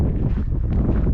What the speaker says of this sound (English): It's a little bit windy today as well.